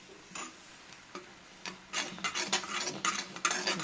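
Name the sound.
stirring a tea-based hair dye mixture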